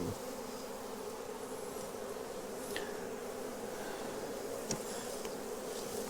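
Honey bees buzz at a hive, a dense steady drone of many wings close by, with individual bees zipping past now and then.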